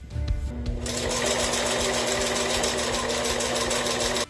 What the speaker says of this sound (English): I'm going to use a zigzag stitch so that it can still stretch.